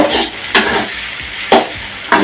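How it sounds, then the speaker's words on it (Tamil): Potato fry is stirred in oil in a pan, with three sharp scraping strokes over a steady close sizzle. "பாருங்க, நாம் இந்த மாதிரி கிண்டும் போது"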